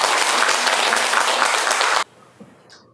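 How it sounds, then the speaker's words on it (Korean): A church audience gives a round of encouraging applause, dense and loud for about two seconds before it cuts off abruptly into near silence. "우리 격려의 박수 한번 부탁드립니다"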